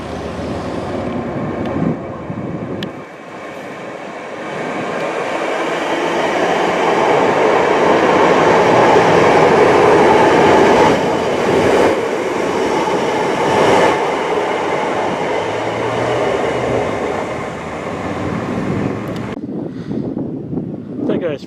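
A Class 319 electric passenger train rumbles steadily at a station, a loud, close, sustained roar with rail noise building and holding before easing off at the end.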